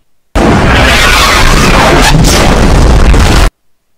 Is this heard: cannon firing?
yes